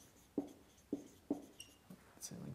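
A field-theory formula being written out by hand, about five distinct tapping strokes at roughly even intervals, close and quiet, with no one speaking.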